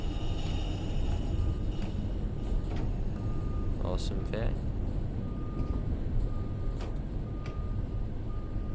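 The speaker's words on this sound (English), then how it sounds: "There's some loud beeping" Loud electronic beeping inside Train Sim World 3, on a Great Western diesel route arriving at Reading, sounds as short repeated tones over steady engine rumble, while someone talks over it.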